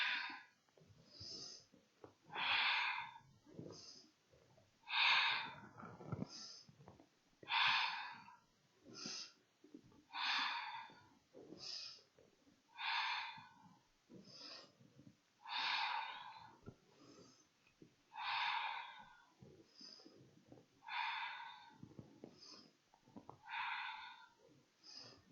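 Forceful, rhythmic breaths during a Kundalini yoga exercise repeat about every 1.3 seconds, close and clear, with no talking.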